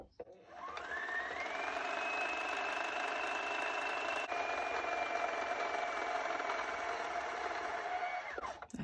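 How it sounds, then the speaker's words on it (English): A sewing machine winds a bobbin in one steady, close whirring run that spins up, holds an even pitch for several seconds and then winds down as it stops when full. "So now this will be ready to wind, and it should wind evenly and it should stop when it's full."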